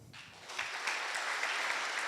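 A conference audience breaks into broad, steady clapping for a show-of-hands survey, filling the room for about two seconds after a brief quiet start.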